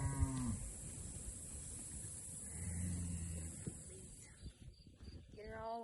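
Cattle on a hay farm give a couple of moos, one at the start and another near the end, mid-distance over a low outdoor background.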